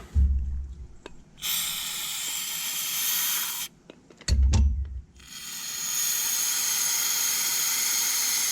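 Brake cleaner sprays in sharp hissing bursts through the accelerator pump of a Dellorto DRLA carburetor, several strong spurts with short pauses between them and faint mechanical clicks, heard up close without talk.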